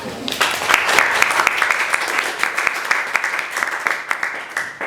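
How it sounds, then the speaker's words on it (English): An audience breaks into applause, a thick wash of clapping that holds steady and then gradually thins toward the end. "can we just have a round of applause?"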